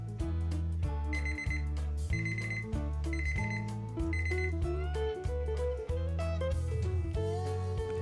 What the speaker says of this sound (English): set your timer for 15 minutes